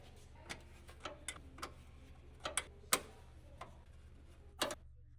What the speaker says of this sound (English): Use the 10mm wrench, tighten down the 2 rear mounting bolts on the upper support.